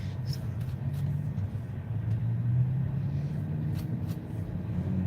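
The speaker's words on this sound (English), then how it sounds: "Oh, there's the Lamborghini, the silver Lamborghini." A silver Lamborghini sports car passes on the Las Vegas Strip, its engine a low, steady rumble rising slightly mid-pass amid general street traffic noise.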